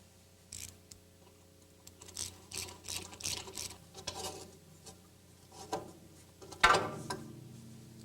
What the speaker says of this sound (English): Now, we have to remove the two lower attaching bolts and pull the shock absorber down through the lower control arm to complete removal.